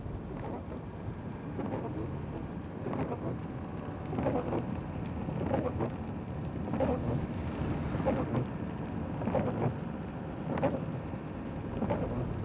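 Rain falling over a hillside vineyard in Hungary, a steady wash of close patter with soft, recurring thuds and rumbles, no voices.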